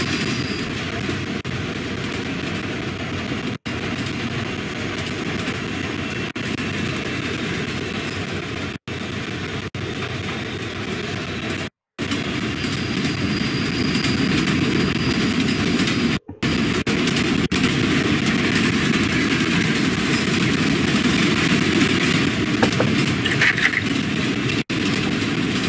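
A train in a horror video game rolls along its rails with a steady, droning rumble and continuous mechanical hum lasting the whole stretch, broken by a few abrupt dropouts and faint clicks.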